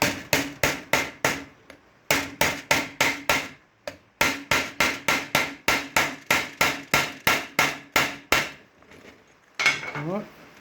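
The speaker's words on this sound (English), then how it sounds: "I'm just going to give it a little bit of a tap." Repeated hammer taps driving an engine seal into place over a small spacer and tubing on a Peerless 1000 racing engine, a steady rhythmic series of sharp close knocks in quick bursts with brief pauses between them.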